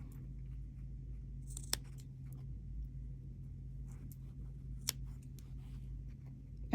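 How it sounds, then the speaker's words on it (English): Orange Karen Kay Buckley scissors clip into a fabric seam of a sewn welder's cap, giving two tiny, sharp snips several seconds apart over a low, steady room hum. "we're going to clip this seam"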